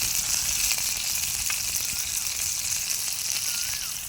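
Fish frying in a pan by a lake, a loud, steady, dense sizzle that holds evenly throughout with no voices over it.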